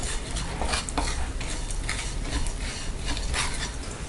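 Almond gum frying in ghee in a pan is stirred continuously, a close, dense crackling sizzle with scraping from the spoon, steady throughout without speech.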